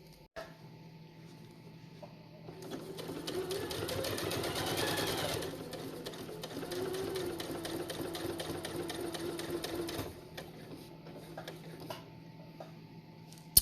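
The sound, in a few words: sewing machine sewing down quilt binding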